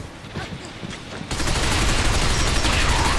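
Heavy gunfire from the Binary Domain video game erupts suddenly and fills the rest of the moment with a loud, dense barrage of rapid shots, following a quieter stretch of game ambience.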